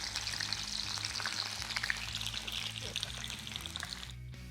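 Round bitter gourd slices sizzle steadily in hot oil as a garnish for keema kakarakaya, a dense frying hiss running throughout with a low background hum and a brief dip near the end.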